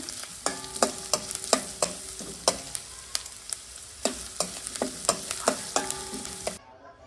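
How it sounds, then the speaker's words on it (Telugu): Onions fry in oil with a constant sizzle, while a utensil scrapes and clacks against the pan in a quick, repeated stirring rhythm before everything cuts off. "లైట్ బ్రౌన్ కలర్ వచ్చేంత వరకు ఫ్రై చేసుకోండి ఆనియన్స్."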